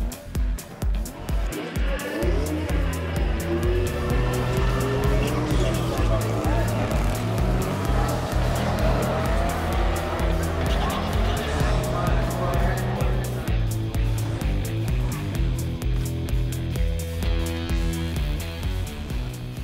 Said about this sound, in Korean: 갈 곳 없어진 브라이언은 발길이 닿는 도시마다 스트리트 레이싱 도장 깨기를 하며